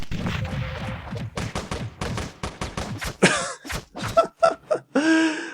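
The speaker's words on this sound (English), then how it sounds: "I will use the nail bomb here" A nail bomb blows up in the top-down shooter Teleglitch, bursting into a rapid run of sharp, loud blasts and crackling bangs that stutter for several seconds, with no talk over it.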